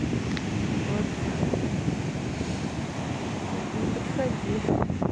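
Strong wind and storm waves on the sea at Lloret de Mar, Spain: loud constant roaring surf and gusting wind buffeting the microphone, with a short spoken remark heard over the noise.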